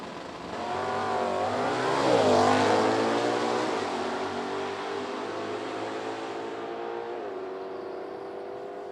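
Drag race cars, a 1969 Nova and a Buick, roar down the strip, engines rising in pitch as they accelerate and then fading with a long steady drone, loud at first and gradually receding.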